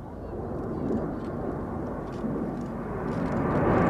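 Red Arrows jets in a display at the Midlands Air Festival 2023, a distant, rumbling roar that swells slightly toward the end, mixed with crowd and wind noise.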